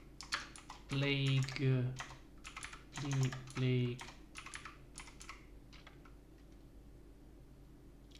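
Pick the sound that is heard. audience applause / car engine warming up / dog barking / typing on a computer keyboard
typing on a computer keyboard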